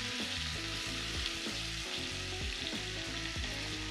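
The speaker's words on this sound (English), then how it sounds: "hear the sizzling simmer" Spiced pork chops sear in a hot pan, browning to golden with a steady, close sizzle and bursts of crackling popping throughout, with no voices.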